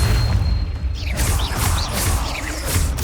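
Confringo blasting spell cast in Hogwarts Legacy, a string of booming, crackling blasts with mechanical clatter rolling on for about three seconds, fairly loud and steady, with no talk.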